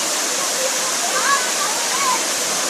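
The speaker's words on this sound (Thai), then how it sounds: "อันนี้ที่น้ำตกเอราวัณจังหวัดกาญจนบุรีนะครับ" Constant rushing roar of Erawan Waterfall in Kanchanaburi, Thailand, close by, with faint distant voices barely emerging through the noise.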